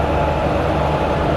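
Steady, dense rumble of a Vijayawada-based WP4 locomotive, number 22607, hauling the Narasapur–Tirupati weekly express, a continuous low drone without talk.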